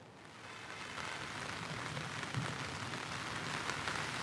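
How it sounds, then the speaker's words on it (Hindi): Heavy monsoon rain pours steadily in Noida, a dense, continuous hiss of drops hitting surfaces, fairly loud and even throughout with no voices. "देखिए लगातार बारिश हो रही है।"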